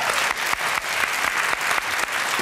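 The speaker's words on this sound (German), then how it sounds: "Vielen Dank für den Applaus." A television studio audience at the German comedy talk show TV total applauds in a loud, full burst of clapping with rhythmic peaks, sustained close and bright throughout.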